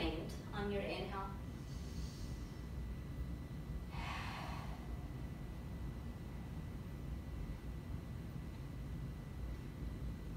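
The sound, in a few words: deep yoga breathing, inhaling and exhaling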